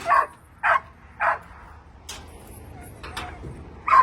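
Chained rescue dogs barking nearby: several sharp, evenly spaced barks with short quiet gaps between them, and a faint yip in the middle.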